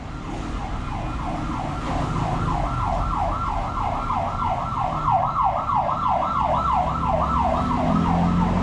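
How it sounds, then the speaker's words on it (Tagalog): An ambulance siren wails steadily as the vehicle passes nearby, a rapid rising and falling tone over traffic rumble, loud and continuous. "Ambulansya, may dumaan."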